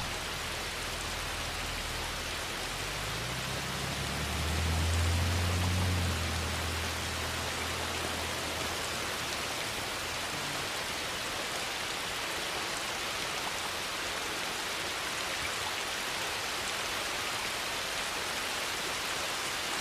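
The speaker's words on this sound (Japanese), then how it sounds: "すごい雨ですね。" Heavy rain pours down in a continuous, even hiss, with a faint low rumble swelling briefly early on.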